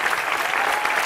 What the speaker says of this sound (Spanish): gran aplauso